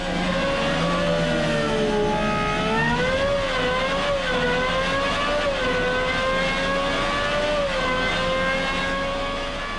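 A GMA T.50 road car's Cosworth engine, which revs to 12,100 rpm, revs and climbs in pitch, rising and falling in loud, sustained howling sweeps up close, with no talking.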